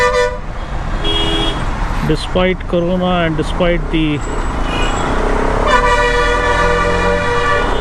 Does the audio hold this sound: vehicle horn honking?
yes